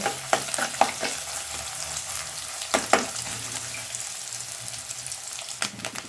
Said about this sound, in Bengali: আমি ডিমটাকে ভালোভাবে নেড়ে চেড়ে ছোটো ছোটো করে নিয়েছি। ডিমটা খুব ভালো করে ভাজতে হবে